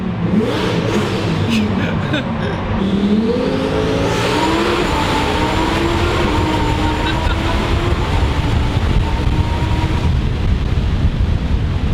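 A twin-turbo 1100-horsepower Lamborghini Performante drives through tunnels and underpasses, its loud engine note climbing steadily through the revs over a constant roaring drone.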